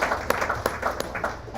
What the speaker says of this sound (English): one more round of applause for Tyler